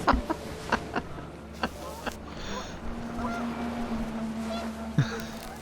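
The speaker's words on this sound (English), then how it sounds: "The wind picked up, and panicked geese appeared and quickly went." Geese honk in a panicked flurry inside a video game, with several short, separated calls early on and another near the end, set against a windy background hum.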